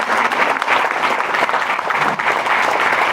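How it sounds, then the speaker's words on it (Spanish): Loud, sustained applause from a prayer-group congregation at a religious retreat, dense steady clapping filling the whole stretch without pause. "Fuerte el aplauso al Señor."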